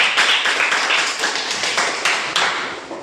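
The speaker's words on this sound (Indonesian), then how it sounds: "Tepuk tangan untuk" Classroom applause for a student group after their presentation, a dense wash of many hands clapping steadily at moderate loudness, with a few sharper claps standing out.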